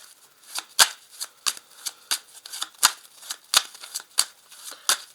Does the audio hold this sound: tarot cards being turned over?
yes